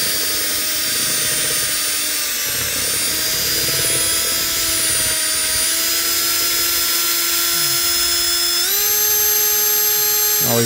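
A power drill fitted with a mixer paddle whirs steadily while stirring epoxy, a loud continuous whine close to the recording phone, with the pitch stepping up near the end as it speeds up.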